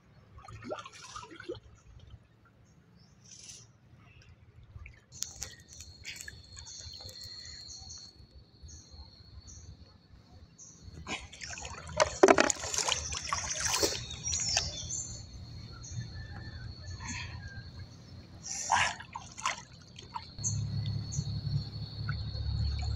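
River water sloshes and drips close by while crab traps are laid in a river, with occasional birdsong in the background and the splashing growing heavier toward the end.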